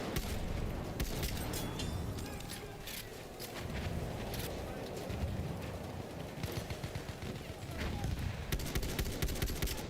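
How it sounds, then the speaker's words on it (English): Distant bursts of machine gun fire crackle through a Battlefield 1 battle, scattered shots layered with faint booms and footsteps at low level throughout. "Spotted a machine gun."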